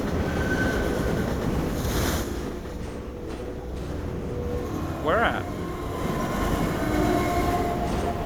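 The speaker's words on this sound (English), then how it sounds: "Oh, train." A train in the game Half-Life 2 rumbles past as a loud, steady roar with a brief squeal of wheels midway, while a voice speaks briefly over it.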